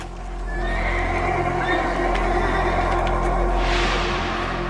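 A horse neighs loudly and at length over a low steady rumble, with a rising whinny near the end.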